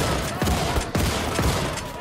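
Shotgun blasts from dual-wielded shotguns in the game Wolfenstein 2, four heavy booming shots in quick succession over about two seconds, loud and close with no talk in between.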